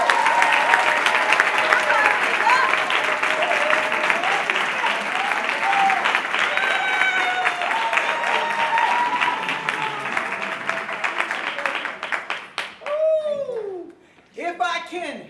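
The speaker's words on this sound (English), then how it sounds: "I want you guys to give a hand to my friend," Audience at a bookstore gala breaks into sustained, dense applause with scattered cheers and laughter, fading near the end as a voice begins to speak.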